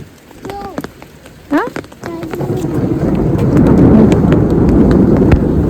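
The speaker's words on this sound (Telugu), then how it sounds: "క్లౌడ్స్ సౌండ్స్ చేస్తున్నాయి. థండర్స్ అంటారు వాటిని, థండర్స్." Monsoon thunder rolling through heavy rain, a broad low rumble building and holding loud after brief child and adult speech at the start, with rain hiss underneath.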